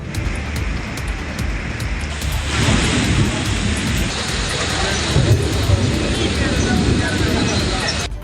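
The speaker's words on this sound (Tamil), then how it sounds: "இடி மின்னலுடன் கனமழை பெய்தது" Heavy rain pouring steadily with rumbling thunder, a dense hiss that swells louder partway through and carries on continuously, with a voice talking over it.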